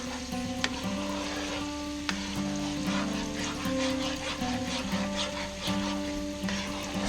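Alfredo sauce with melting cheese bubbles gently in a pan, giving a steady soft sizzle and low popping throughout, with a few faint clicks.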